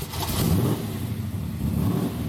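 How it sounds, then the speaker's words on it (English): A Boss 429 NASCAR engine in a video game revs with a deep, rumbling roar, holding loud and steady with a slight dip midway, alone without talk. "You hear how deep the rev is? It's because it's a NASCAR engine."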